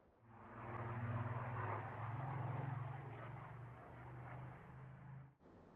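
A Spitfire rolls along an old World War II metal runway, a steady loud rumbling rattle of wheels and engine lasting about five seconds before cutting off abruptly.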